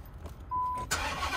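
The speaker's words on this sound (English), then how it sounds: "I feel like y'all deserve a cold start, so why not? Let's start her up." A 2012 Mercedes-Benz G-Class cold-starts outdoors at an auto auction. A short starter crank is followed by the engine catching with a sudden loud burst, then settling into a steady close idle.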